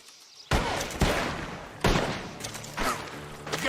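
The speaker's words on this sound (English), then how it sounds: "The gunshots are coming from that barn!" Gunfire from a barn in Red Dead Redemption II: four sharp, loud shots spaced irregularly about a second apart, each with a booming echo tail, no talk.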